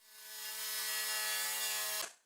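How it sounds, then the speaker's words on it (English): Jigsaw cutting speaker openings in taped wood panel, a continuous close buzzing whine for about two seconds that stops abruptly. "I cut out all the speaker openings by just taping it up and cutting it out with a jigsaw"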